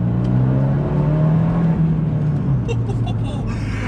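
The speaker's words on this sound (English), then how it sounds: "with a record Monza exhaust, it just sounds so good" An Abarth 124 GT with a Record Monza exhaust drones steadily at a low, throaty pitch, then its note rises and shifts near the end, close and loud.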